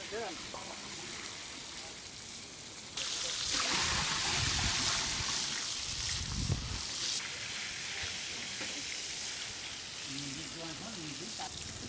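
Water poured into a pot of cooking khichdi sets off a sudden loud hissing sizzle that swells then settles into steady bubbling, with someone speaking throughout.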